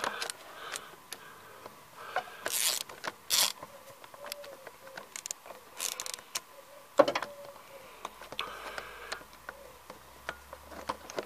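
A socket wrench works a glow plug loose on a Citroen ZX 1.9D diesel engine, giving scattered close metallic ticks, clicks and scrapes in irregular bursts against a quiet background.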